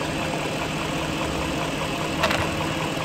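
BMW 740i V8 engine running steadily at idle during a coin balance test after a quick repair, a smooth continuous hum heard close, with a brief small knock partway through.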